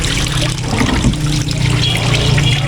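Water trickles and pours continuously from a close source, with a steady splashing stream and no pauses.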